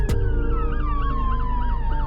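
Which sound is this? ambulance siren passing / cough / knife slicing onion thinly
ambulance siren passing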